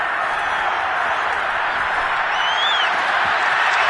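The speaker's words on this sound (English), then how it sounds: "The crowd getting into it as we come up on a big" Steady crowd roar and cheering from a stadium audience in the Madden 22 football video game, building ahead of a big third down between the Niners and their opponent, a continuous broad wash of noise with no clear breaks.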